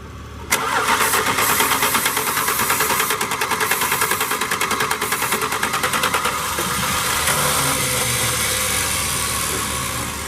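A neglected 1967 Plymouth Barracuda engine cranks with a rapid rhythmic chatter, then catches and runs loudly and roughly up close, settling into an uneven idle.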